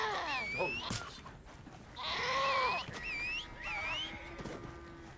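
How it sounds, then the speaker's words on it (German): Several goat bleats in the video game Red Dead Redemption 2 Online, wavering and nasal, repeat over a soft ambient background, each call lasting under a second, with one longer bleat in the middle. "Hier sind Ziegen."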